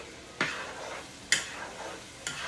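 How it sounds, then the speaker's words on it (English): Noodles being stirred in broth in a pot, three separate scraping stirs with soft bubbling between them, close and fairly quiet, no talking. "We're going to stir that in. Go ahead and stir it in."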